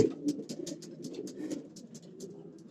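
Homing pigeons coo in soft repeated low burbles, close by, with light rustling and scattered high clicks throughout.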